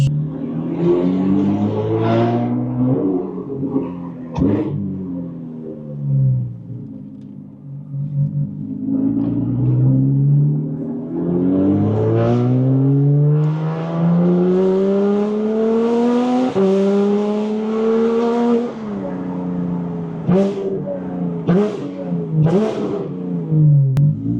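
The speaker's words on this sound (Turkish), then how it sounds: "Bakalım Porsche sesi nasıl olmuş?" A tuned Porsche engine revs hard while driving, climbing and dropping through repeated loud accelerations with a deep rising growl and sharp throttle blips, close and dominant throughout.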